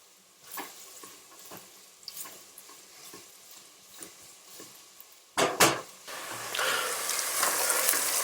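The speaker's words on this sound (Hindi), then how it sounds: "so now I'll allow the onions to cook for some time" Onions sautéing in a pan, heard as repeated soft stirring scrapes over a low sizzle, followed by a couple of louder knocks and then a rising, brighter frying hiss near the end.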